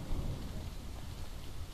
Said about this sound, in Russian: Начался дождик.